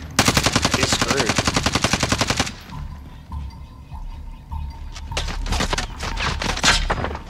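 Rapid automatic gunfire in Call of Duty Warzone, a loud sustained burst of evenly spaced shots for about two and a half seconds, followed by quieter scattered shots, clicks and impacts.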